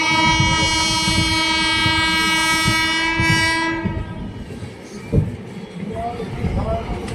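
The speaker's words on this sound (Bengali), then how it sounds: "একটা ট্রেন দ্রুত গতিতে ছুটে আসছে।" The Howrah–New Delhi Duronto Express speeds past with a loud, sustained horn blast over the rumble of the train. The horn cuts off partway through, leaving the train's roar and clatter with some background voices.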